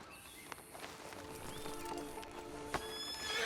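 A horse in Red Dead Redemption 2 gives a faint whinny over a steady background of ambient game sound, with a few sharp hoof knocks scattered through it.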